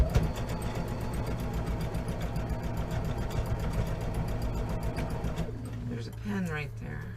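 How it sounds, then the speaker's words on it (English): A sewing machine runs steadily, back stitching over a seam of a tote bag, with a rapid even mechanical whir that stops near the end; a voice speaks over it. "I can back stitch over the seam"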